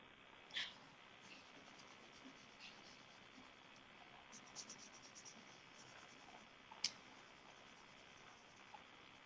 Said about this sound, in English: So I'm going to simply just render this with my cream color pencil.